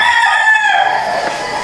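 A game farm rooster crows loudly and close, one long sustained call that slowly drops in pitch, with faint clucking from other fowl behind it.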